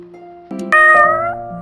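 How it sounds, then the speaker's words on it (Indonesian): A single cat meows loudly and close up, one drawn-out call rising and falling, over a brief faint tonal background. "Contohnya bunyi kucing."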